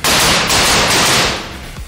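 AR-15 rifle gunfire in rapid, closely spaced bursts, loud and near, with sharp cracks running together before tailing off into echo.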